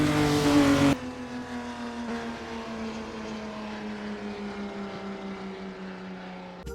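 A vintage Ferrari race car engine roars past at the finish line, loud at first and then dropping into a steady droning tone with a slowly falling pitch as it pulls away.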